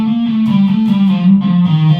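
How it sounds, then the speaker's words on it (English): A heavily distorted electric guitar plays a sustained legato solo line from a song, with smooth sliding, singing notes ringing loud and close, no talk over it. "The legato really sings through with a crap load of distortion and a bit of speed."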